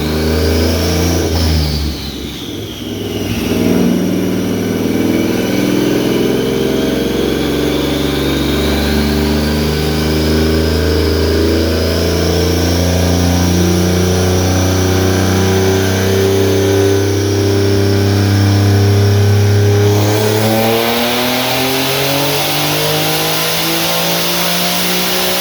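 A turbocharged S550 Mustang with a 3.7-litre V6 and a single dual-ball-bearing turbo runs loud and close on a dyno: a steady engine drone climbs through a long pull with rising whine, then drops off near the end.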